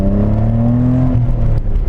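A Nissan 300ZX engine revs high and loud, its exhaust rasping as the pitch climbs and then drops briefly before pulling again, close and without talk.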